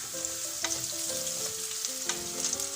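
Half an onion, chopped, frying in oil for a vegetable lasagna, a steady close sizzle with stirring clinks and tonal kitchen sounds layered over it.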